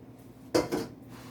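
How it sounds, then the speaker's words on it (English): Two quick metal clinks of a whisk striking the side of a bowl of chocolate frosting for a mud cake. The second clink is slightly softer, and the room is otherwise quiet. "This is one final whisk to incorporate everything"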